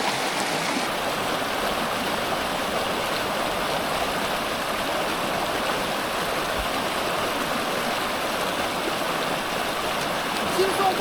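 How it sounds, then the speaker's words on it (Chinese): A rushing mountain stream in a Swiss alpine valley on the Tour du Mont Blanc roars with constant loud, close white-noise flow while someone wades across; no clear talk rises above the water. "趟过这个湍急的这个河水啊，到达对岸"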